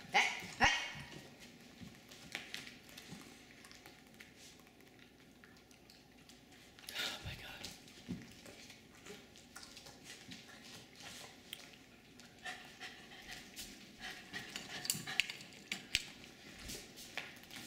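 Excited senior Jack Russell Terriers waiting for bacon treats, with scattered barks, panting and snuffling at close range, mostly quiet with a few sharper bursts.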